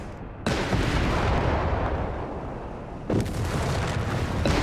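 Heavy gunfire and artillery booms from the World War II strategy game Company of Heroes 3 in a desert battle, a dense continuous roar of shots and blasts that swells sharply near the start and again toward the end, with no talk.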